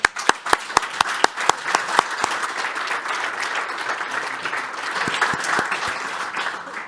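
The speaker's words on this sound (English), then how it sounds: "Let's give the speakers a hearty round of applause." Audience applause at a conference session on international perspectives for energy infrastructure transformation, opening with sharp separate claps that merge into a steady, dense round of clapping lasting several seconds.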